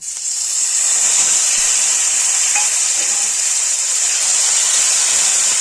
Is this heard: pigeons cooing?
no